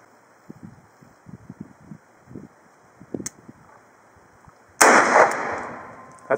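A single M1895 Nagant revolver shot fired single action at a Coke can downrange: one loud, sharp crack with a decaying echo, preceded by faint handling clicks and rustling.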